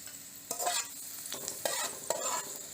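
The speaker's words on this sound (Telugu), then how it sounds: "కిందకి మీదకి డీప్ ఫ్రైలో ముక్కలు కలుపుకుందాం." Vegetable pieces stirred in hot oil while deep frying, a steady bubbling sizzle broken by several scraping stirs of a spoon through the pan.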